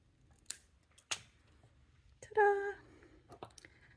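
A few quiet, sharp snips of cutting pliers or scissors trimming excess jewelry wire while making earrings, spaced clicks with a brief squeak in the middle, close and otherwise near-silent.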